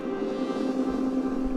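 The Clang Data Drone patch by Hainbach and Spitfire Audio holds a sustained, dense metallic drone. Its steady layered tones stay even and continuous throughout.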